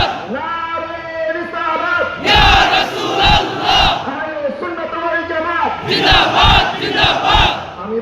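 Large rally crowd roaring in unison, two loud shouted replies separated by a single voice leading the call, the crowd chants booming and close.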